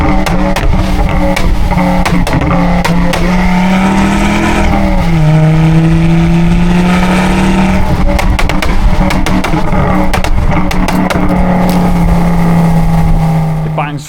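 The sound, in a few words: Ford Focus ST engine revving, exhaust bangs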